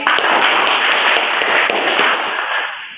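Students applaud a classmate in a classroom during an Islamic religious education lesson, with brisk clapping from a group that stays steady for a few seconds and then fades at the end.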